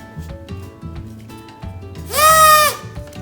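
Rhythmic breathy reed tones from a homemade harmonica bob up and down, then one loud sustained wail briefly swells over them before the patter resumes.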